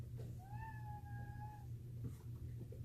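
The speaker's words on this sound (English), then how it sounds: "my cats have sneaked in the room" A cat sneaks into a room and lets out one clear drawn-out meow, faint against a low steady hum, followed by a few soft small knocks.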